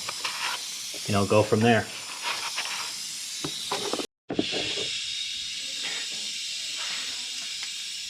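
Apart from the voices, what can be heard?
compressed air blowing into engine cylinder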